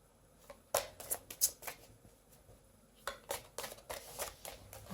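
Tarot cards being shuffled by hand: two quiet bursts of close riffling and slapping, one near the start and another past the middle, with a pause between them.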